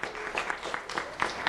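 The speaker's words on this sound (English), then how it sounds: "round of applause for Jaden Jones" Brief, light applause for a young honoree at a community recognition event, a modest scattering of claps heard close and fairly soft.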